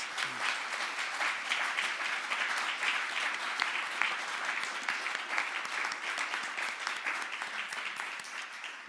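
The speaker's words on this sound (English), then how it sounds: "let's give a round of applause" An audience at a mayoral candidate forum applauds, a dense, steady wash of clapping that holds at an even level for about nine seconds before easing slightly at the end.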